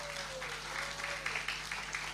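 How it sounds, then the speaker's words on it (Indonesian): A church congregation applauds together, a soft, steady patter of many hands with no single claps standing out, heard from a distance over a faint low hum. "Berikan tepuk tangan bagi Tuhan kita."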